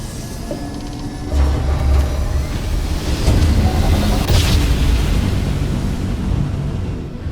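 Spaceship grav jump in Starfield: a loud, continuous rumbling roar with deep low-end surges and a hissing wash on top, swelling and booming midway before slowly settling.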